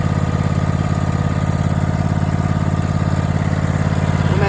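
A modified lawn mower engine runs loud and close with a steady, throbbing idle and even rapid pulsing throughout.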